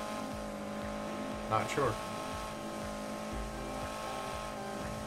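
Car engine and exhaust in the racing video game NFS Heat, a steady droning hum with a brief louder burst, running under a speaking voice throughout.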